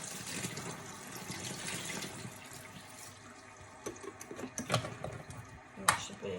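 Tap water runs steadily into an unbranded portable manual washing machine, a continuous close splashing rush with a few sharper clunks and drips toward the end.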